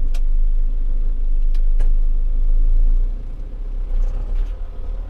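A John Deere 6320 tractor drives after a gearbox bearing repair, its engine giving a steady, loud low rumble that eases slightly near the end, with a few brief clicks over the drone.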